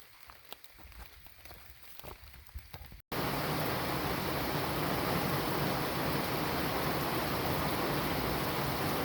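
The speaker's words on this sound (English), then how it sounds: "It's pouring rain." Heavy pouring rain on the Appalachian Trail, first a softer patter with scattered drops, then a sudden cut to a loud, steady, close hiss of downpour.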